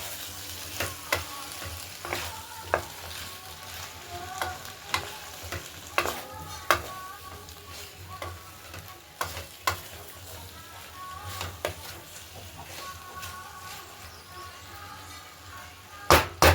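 Spice mix and flat beans stirred and fried in a pan for a Bengali dried fish with potato dish, spoon scrapes striking in a steady irregular rhythm over a soft continuous sizzle, close and moderately loud.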